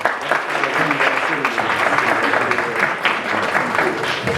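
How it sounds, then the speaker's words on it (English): A winter gala audience clapping steadily and loudly, a dense sustained wash of many hands with some cheering voices mixed in, continuing throughout. "But can you guys clap it up for yourselves?"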